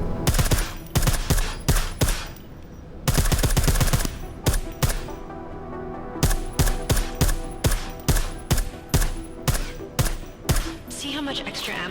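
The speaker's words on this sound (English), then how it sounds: "I like how silencers reduce sound, but the trade-off is less stopping power" Suppressed gunshots in the video game Deus Ex: Mankind Divided crack out in quick bursts and single shots, some rapid-fire runs and some spaced, loud and near, with sharp attacks throughout.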